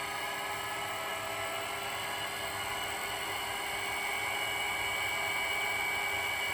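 A mini milling machine runs at higher speed, near 1,000 RPM, just after a fault was fixed, giving a steady, loud, even whine with a high motor tone and no pauses.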